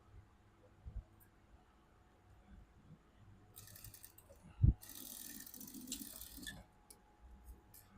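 A sewing machine runs a short burst of stitching on a princess-cut blouse, starting with a sharp mechanical knock and then a busy whirring rattle for about two seconds before fading into quiet room noise.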